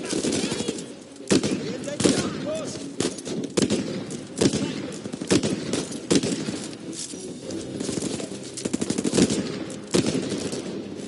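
Magnum gunfire in the video game Uncharted 4, with repeated loud sharp shots cracking out at irregular intervals amid game combat noise, a voice talking faintly underneath.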